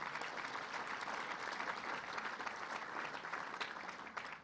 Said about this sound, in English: let's give them a round of applause for their great work